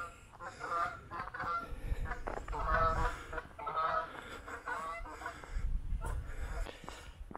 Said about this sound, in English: Ducks at 1 o'clock.